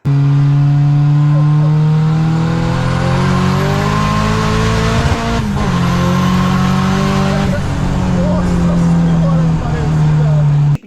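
Turbocharged VW AP engine car pulling hard through its gears, a loud, close engine note sweeping steadily upward in pitch, dipping briefly at a gear change midway before climbing again.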